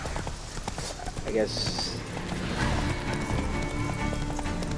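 Hooves of Roach, a horse in The Witcher 3, splashing and galloping through water in a steady churning rush, with someone talking over it throughout.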